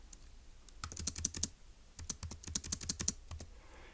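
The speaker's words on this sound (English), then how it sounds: "let's go ahead and type it up" Close, quiet keyboard typing comes in two quick bursts of rapid clicking keystrokes, split by a brief pause.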